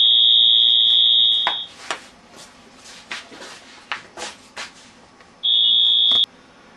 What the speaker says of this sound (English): Phone rang. That loud sound that you heard, that was the phone.